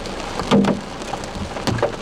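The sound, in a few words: large hail falling during a storm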